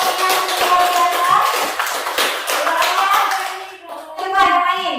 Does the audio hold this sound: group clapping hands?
yes